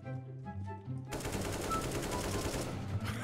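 Rapid AK rifle fire from the video game CS:GO bursts in abruptly after a second of quieter game sounds, rattling continuously and densely to the end.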